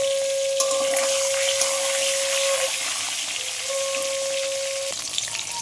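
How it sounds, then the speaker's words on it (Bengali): Eggs frying in a wok, a loud steady sizzle with a sustained whistling tone running through much of it and a few clinks. "দেখুন আমার এখানে ডিম ভাজা হয়ে গেছে"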